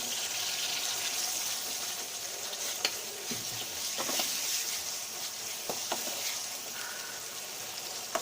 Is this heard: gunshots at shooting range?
no